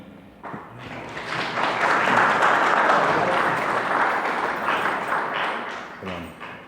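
Warm audience applause at a Kurdish literary gathering swells into steady, dense clapping from a room full of people, holding for several seconds before tapering off, with a voice briefly heard at the edges.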